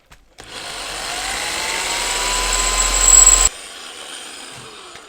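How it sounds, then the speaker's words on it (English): A power drill boring into the case of a NAD CD receiver. It gives a steady, loud whirring drone for about three seconds, strains briefly near the end, then cuts off, leaving a faint hum. "let's try that again. With the little bit more scary drill."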